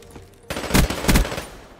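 PPSh submachine gun firing in the Black Ops 3 video game, a sharp onset followed by two loud clustered bursts of rapid automatic shots that fade out quickly.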